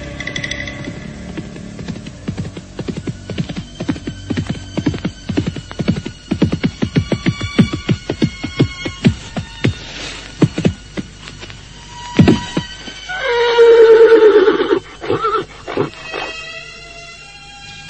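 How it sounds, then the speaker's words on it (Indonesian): A group of horses approaches with a long run of rhythmic hoofbeats growing louder, then a loud drawn-out neigh rises near the end amid a dramatic audio-drama soundscape. "Sekelompok orang berkuda datang."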